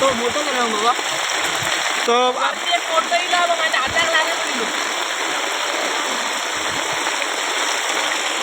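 A mountain stream swollen by rain rushes and gurgles steadily at a constant level, with a voice speaking briefly near the beginning.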